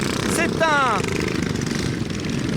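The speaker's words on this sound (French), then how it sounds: "C'est incroyable le bruit de tous ces tracteurs." Modified racing ride-on lawn mower tractors at a 24-hour race in the Ardennes, their engines a dense rattling drone throughout, while a voice speaks briefly over it near the start.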